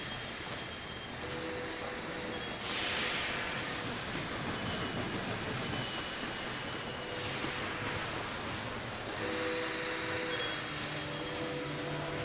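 Trains rolling through a railway network in the video game Sid Meier's Railroads, a steady game rumble of wheels and carriages with faint whistle-like tones, continuous and moderately quiet throughout with no talk.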